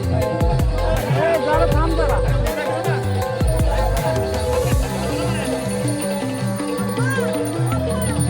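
A large crowd gathered by a river for a Ganpati immersion procession in Konkan, a dense babble of many voices with music and drumming beneath and sharp clatters throughout, close and loud.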